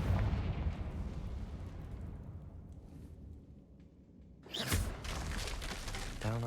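A Confringo blasting spell explodes in Hogwarts Legacy, a deep rumbling boom with a sharp, bright burst near the end over continuous low rumble.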